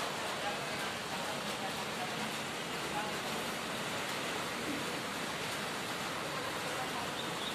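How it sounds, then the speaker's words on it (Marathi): Steady, even rain falls outside a balcony gallery overlooking the sea in Mumbai, a dense continuous hiss that stays at one level throughout without breaks. "निसर्गातच पाऊस पडत आहे."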